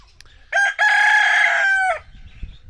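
A single loud rooster crow rings out close by, a long drawn cock-a-doodle-doo lasting over a second with a brief catch near its start.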